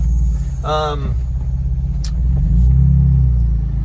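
2011 Jeep Wrangler Unlimited Sahara JK with a 3.8 liter engine and Rock Crawl exhaust, a deep steady rumble that swells as it revs, with someone talking over it.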